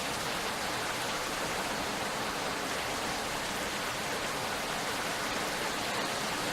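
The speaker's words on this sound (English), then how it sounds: "Even the characters are having trouble hearing over the rain" Heavy rain from the video game Rainswept pours in an unbroken, dense hiss, loud and even throughout with no voices above it.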